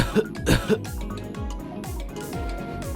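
A man gives three quick, harsh coughs close by, clearing a tickle in his throat, followed by a quieter stretch of low background rumble with no speech.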